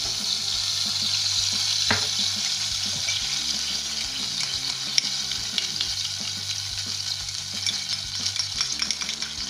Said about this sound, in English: I'm going to melt the butter and the golden syrup